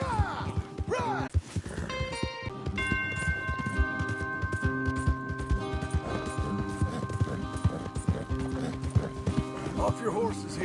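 Rapid clip-clopping hooves of several horses in Red Dead Redemption 2 run steadily beneath a voice and a bright musical score, with an occasional whinny.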